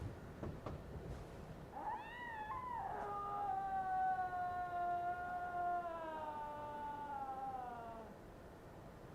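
A cat in the video game Bloodborne gives a long, drawn-out meow that rises then holds steady for several seconds, clear and fairly close over a faint background hum.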